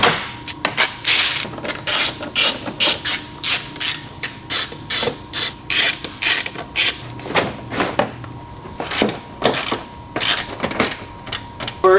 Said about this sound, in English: let's just go ahead and pop off this front bumper